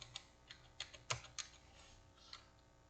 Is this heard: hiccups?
no